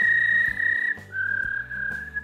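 A person whistles through their fingers in imitation of a dial-up internet modem on a phone line, producing shrill sustained tones that hop in pitch in short, choppy bursts over a couple of seconds.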